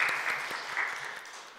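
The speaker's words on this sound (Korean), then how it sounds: "우리 한 번 더 박수로 주님께 영광 올려드리겠습니다." A church congregation at a Wednesday worship service claps after a choir's hymn, a brief, moderately loud burst of scattered hand claps that tapers off within a couple of seconds.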